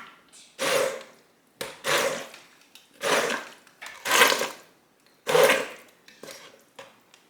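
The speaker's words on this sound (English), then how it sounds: "I am going to do the immersion blender for just a few seconds because some of those chunks are kind of big" An immersion blender pulsed in chunky homemade fruit syrup, about five loud short whirring bursts separated by brief pauses, close up with no talk.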